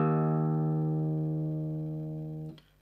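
A single sustained guitar tuning note, with the guitar tuned a half step down, rings steadily and close for about two and a half seconds, then is abruptly cut off.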